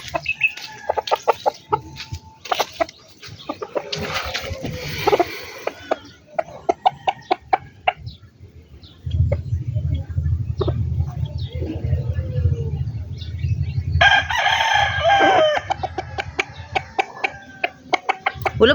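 Backyard chickens in a small flock of four, hens and a rooster, cluck in repeated close bursts, with a crow near the end and some low background noise between calls.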